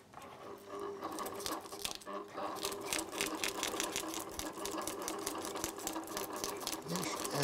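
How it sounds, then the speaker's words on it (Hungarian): Sewing machine stitching a straw hat, running in a steady fast rhythmic chatter of needle strokes throughout, close and continuous with a faint voice underneath. "És elkezdődik a varrás."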